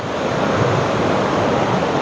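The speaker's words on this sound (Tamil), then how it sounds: "அந்த அருவி சத்தம் உங்க காதுல கேக்குதா?" Hidden waterfall deep in the Kodaikanal forest: a steady, dense rushing of falling water that holds even and fairly loud throughout, with no voices.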